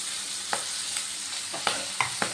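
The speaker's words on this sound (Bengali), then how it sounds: "পেঁয়াজগুলো দিয়েও আবার ভালো করে ভেজে নেব" Sliced onions sizzle in hot fish oil in a pan, a steady frying hiss broken by several sharp clicks of a spatula stirring.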